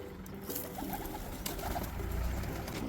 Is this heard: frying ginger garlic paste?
no